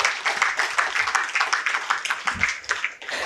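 An audience applauds a speaker onto the stage at a talk, with steady, dense clapping throughout.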